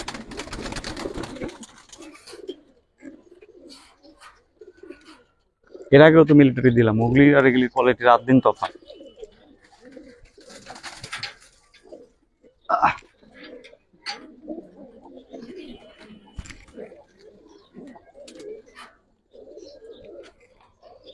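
Pigeons coo in a burst of deep throaty calls at close range, then fainter bird sounds follow, and someone talks over much of it.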